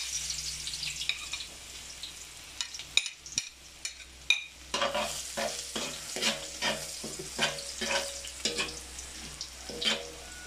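Garlic sizzles and crackles in hot oil as it is stirred in a pan, with irregular scraping clatters over a steady frying hiss.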